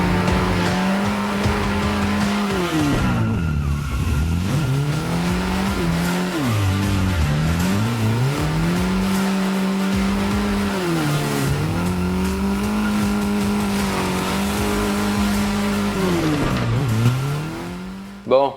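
Mazda MX-5 Miata drifting at CG Drift Park, its engine droning and rising and falling in pitch through repeated slides with tire squeal, loud and continuous for the whole run.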